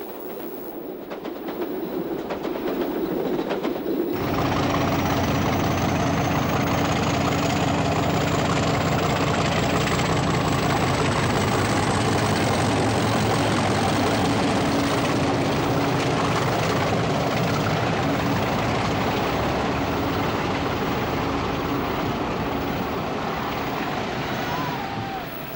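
Class 50 diesel locomotive 50024 passes the old goods yard near St Austell, Cornwall, its engine roar swelling in suddenly and holding loud and steady with clattering wheels for the whole pass, no voices.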